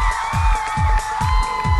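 Crowd cheering for a band at a quarterfinal competition, a sustained roar of voices over pounding low beats that keep repeating about every half second, loud and steady throughout.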